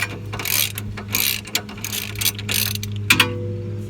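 Ratchet clicks on the seized top bolt of a 15-year-old Toyota Camry rear sway bar link, a steady run of close mechanical ticking over a low hum, ending in a couple of sharper knocks.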